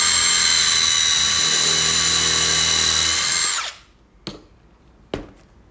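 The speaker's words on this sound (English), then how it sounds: "I'm going to drill the hole" A power drill with an old bit countersinking a hole whines loudly at high speed for several seconds, then spins down and stops, followed by two brief clicks.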